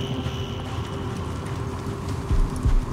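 Horse hooves clip-clop at a steady trot in the Assassin's Creed Origins video game, running continuously under a dense bed of game ambience, with a few heavier thuds near the end.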